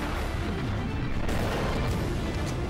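Muffled explosions roll through the video game Global Defence Force, a steady wash of booming blasts and crackling debris with no clear gaps, moderately loud and without talk.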